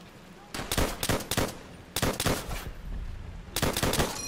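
Rapid machine-gun fire in the Call of Duty: World at War campaign, three loud clusters of close shots with short gaps between them, and faint talk in the background.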